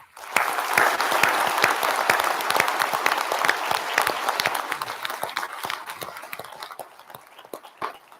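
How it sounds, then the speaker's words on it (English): Audience applause in a large hall at a Scottish Rite biennial session in Washington DC, steady clapping from a big crowd that holds for several seconds and slowly thins toward the end, with no one speaking. "Please join me in a round of applause for all of our great friends that have joined"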